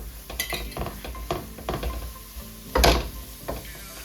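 Close, irregular scraping and clicking as banana ladoo ingredients are mixed with cardamom sugar, with one louder scrape near the end.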